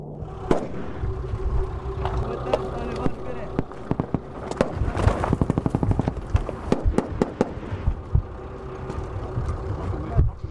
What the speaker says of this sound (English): They're being shot at from the valley below and fear this could be the start of a full-scale attack.